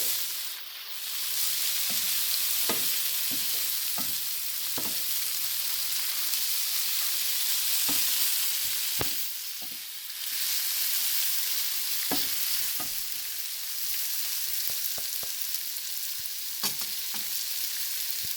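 Squid cooks with onions and spices in a pan, a steady close sizzle and hiss broken by scattered clicks and scrapes of stirring, with no voices over it.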